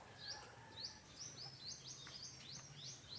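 A small bird calls repeatedly outdoors, a series of rising chirps that come in quick succession against a faint hum of insects, fairly distant and alone with no talking.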